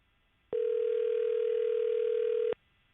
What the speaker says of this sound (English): Oh, now it's ringing.